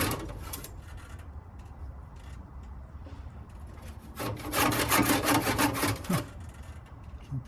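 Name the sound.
handsaw sawing through thick wood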